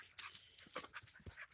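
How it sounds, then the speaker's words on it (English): A stray dog pants close by outdoors in a garden, quick rhythmic breaths in short bursts with a faint whimpery edge, fairly quiet but clearly audible. "I don't know whose dog this is."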